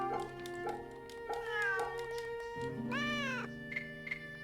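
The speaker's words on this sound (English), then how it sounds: "Oh, let's pet the kitty." A cat in the video game Fate/Samurai Remnant meows several times in a row, clear tonal meows close up over a quiet steady background hum, with no talking.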